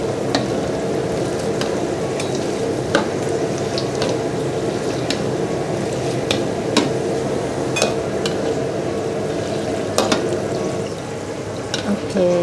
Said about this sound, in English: And then fry it, dry chili.